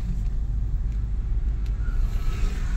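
A car driving along in second gear on a single-lane road, its engine a steady low rumble heard from inside the cabin, with no talking over it.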